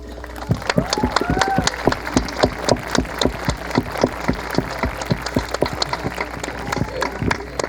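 Wedding guests clap for the couple Mayara and Jonas, a steady patter of applause that runs the whole stretch at moderate distance, with a voice speaking briefly over it.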